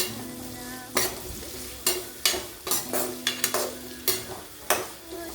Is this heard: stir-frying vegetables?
yes